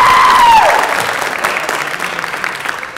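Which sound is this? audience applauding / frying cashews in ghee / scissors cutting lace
audience applauding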